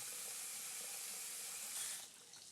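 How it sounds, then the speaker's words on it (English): Running sink water in the Puzzle Agent video game, a steady broadband hiss of flowing tap water that holds at even strength, then thins and drops slightly near the end, with no talking. "Water's still flowing."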